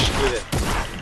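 Rapid bursts of gunfire in a shooter video game, two dense volleys split by a brief gap, loud and close.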